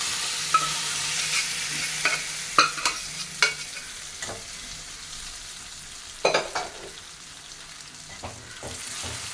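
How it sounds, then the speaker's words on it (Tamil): Siru keerai greens fry in a hot pan with a steady sizzle, broken by repeated sharp scrapes and knocks of a spoon stirring, close and without speech. "இப்போ நம்ம இந்த கீரையை இதில் ஊற்றணும்."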